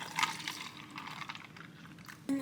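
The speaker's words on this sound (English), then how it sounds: "Pour over 1 cup of coffee." Coffee poured over a cup of ice in an iced latte makes a soft, splashy liquid stream with faint crackles, ending in a brief clink, and no one talks over it.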